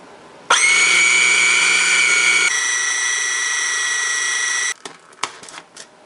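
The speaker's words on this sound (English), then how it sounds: "Mix it all until it's fully mixed together" A mixer or blender whirs steadily and loudly as sugar and vanilla extract are blended into a keto almond cocoa cheesecake mixture, changing pitch partway, then stopping, followed by a few faint clatters.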